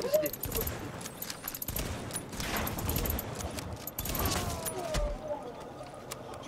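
Shotgun fire in the video game The Division: bursts of gunshots mixed with mechanical clatter and other game effects, loud and busy, under excited player talk.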